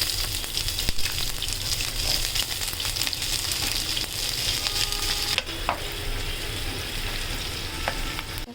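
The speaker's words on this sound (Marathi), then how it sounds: "त्याच तेलात कांदा टाकूया" Onion fries in hot oil for a spiced eggplant dish, a constant close crackling sizzle with occasional stirring clicks and clinks throughout.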